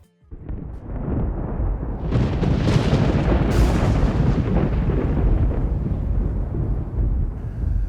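A lightning strike with thunder over Tenochtitlan hits a temple: a rumble rises, then a loud broadband crack lands around two seconds in, another sharp burst follows, and a heavy rolling roar sustains to the end with no voices.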